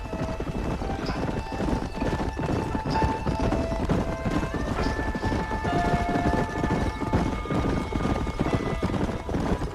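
Steady clip-clop of several horses' hooves trotting in Red Dead Redemption, continuous and close, with faint tonal music and ambience underneath.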